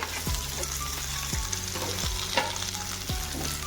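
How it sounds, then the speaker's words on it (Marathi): Onion and capsicum stir-fried over a high flame for soya chilli: a constant sizzle with a regular rhythm of spatula strokes, about one every three-quarters of a second, close and clear with no talking. "आणि मोठ्या गॅसवर ह्याला छान असं परतून घ्यायचं आहे"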